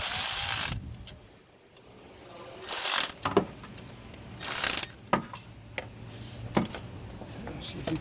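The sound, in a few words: tightening bolts while replacing a Toyota Camry water pump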